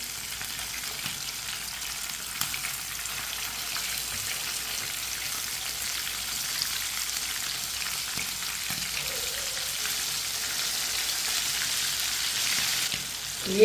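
Chicken pieces frying in a pan give a steady, continuous sizzle with a fine crackle, close and even in level throughout, with one brief louder clatter at the very end.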